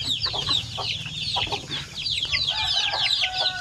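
A crowd of one-month-old native Basilan and Zamboanga chicks peep constantly, with dense overlapping high chirps close by and no talk.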